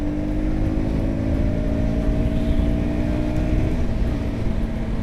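A KTM Duke 250 single-cylinder motorcycle engine in track mode drones steadily at speed, loud and close, with a slight pitch shift suggesting throttle changes, alone without talk.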